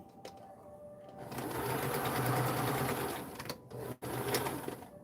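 A sewing machine stitches fabric for a dress form cover, its motor whirring in a steady close run with a brief pause near the end, then starting again.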